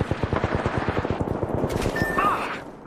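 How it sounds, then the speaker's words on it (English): Rapid automatic gunfire from a squad-based video game, a long run of loud, evenly spaced shots close up that keeps going for nearly three seconds, ending in a brief electronic tone and a fading tail. "They're shooting at me."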